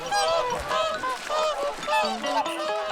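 Flock of migratory birds, likely geese, honking in winter in Hokkaido, Japan; overlapping loud calls come thick and continuous, close by, with no talk.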